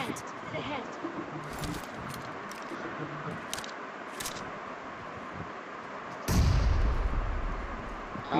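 Video game fight with gunfire coming from a house: scattered sharp shots and one louder burst near the end, heard under players talking.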